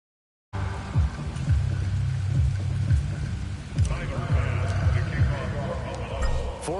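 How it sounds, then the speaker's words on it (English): Steady rain hisses with low rumbles of thunder in an EA Sports football video game during a rainy second half, a constant wash under a voice speaking. "The rain set to continue as we are underway in the second half."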